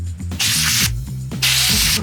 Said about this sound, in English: first alert. Easy fire spray